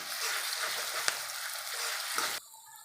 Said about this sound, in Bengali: এবার আমি রসুন বাটাটা দিয়ে দেব, দিয়ে নেড়ে নেবো এমনভাবে